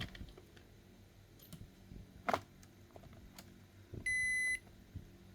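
A Toshiba rice cooker gives a short electronic beep, a single clear tone near the end amid quiet clicks and handling noises close by.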